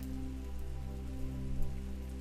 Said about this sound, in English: It rained for days and it rained for weeks.